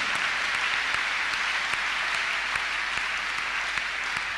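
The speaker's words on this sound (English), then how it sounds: "Clap your hands unto God of the choosing" A church congregation at a deliverance service claps hands, with steady, continuous applause and sharp individual claps standing out at moderate loudness.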